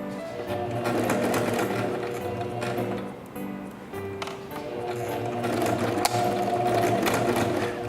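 A sewing machine stitches fabric for a dog's apron skirt in rapid rattling bursts, running in a few stretches with brief pauses between them, close and clear.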